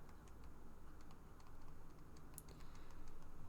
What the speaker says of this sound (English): all I'm doing is I'm actually typing in the algebraic expression exactly as it is